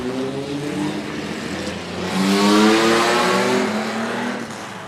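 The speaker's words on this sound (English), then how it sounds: "Seven standard V8s lining up." Standard V8 race cars lined up at a race start, engines rumbling loudly together and swelling as they rev up midway, a dense close roar throughout.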